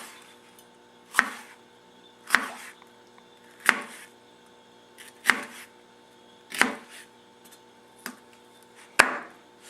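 Knife chopping vegetables into thin slivers on a cutting board, with seven sharp, evenly spaced chops about a second apart, close and crisp with quiet pauses between strokes.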